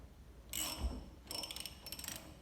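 The carriage of a rebuilt Champion diving arm bakery mixer is rotated down, giving faint ratcheting, clicking mechanical bursts in two short runs with gear-like rattles and no talking.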